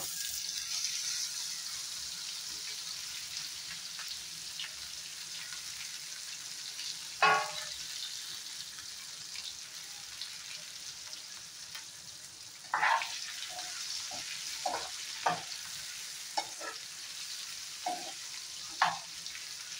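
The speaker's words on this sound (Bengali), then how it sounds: "বয়েল করা আলু, একটু লাল লঙ্কার গুঁড়া আর হলদি মেখে রেখে দিয়েছিলাম, এটাকেও ফ্রাই করে নেব।" Boiled potatoes coated in red chilli powder and turmeric frying in oil with bay leaves, a steady close sizzle throughout, broken by scattered scraping and stirring knocks in the second half.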